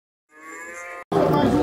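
Cattle at a replacement-cattle auction fair in Capoeiras, Pernambuco, give one long, loud moo, then after a brief break a second, louder and harsher bellow close by.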